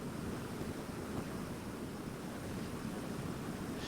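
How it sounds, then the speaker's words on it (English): A waterfall in the virtual-reality game Ilysia, heard as a steady, dense rushing roar of falling water that holds evenly throughout with no voices. "This waterfall right here is by far my absolute favorite waterfall."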